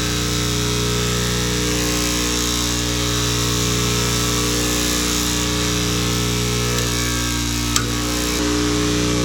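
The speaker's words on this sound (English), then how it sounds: "So luckily I have a big grinder." A big angle grinder cutting a metal door cable part on a 2008 Toyota Sienna: steady loud whining motor hum running throughout, with a brief sharp click near the end.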